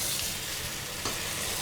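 Potato masala frying in a pan is stirred gently with a spoon: a soft, steady sizzle with light scraping strokes and one brief, louder scrape near the end.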